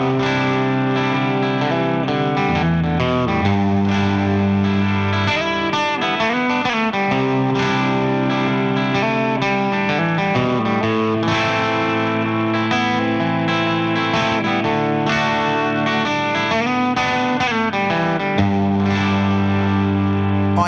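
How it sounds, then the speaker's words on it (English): Electric guitar through an Electro Harmonix Soul Food overdrive pedal, a transparent Klon-style drive, playing sustained chords and melodic lines with light grit, chorus-like shimmer and reverb, steady and upfront with no talking. "I use this Electro Harmonix Soul Food pedal, known for its transparent overdrive tones"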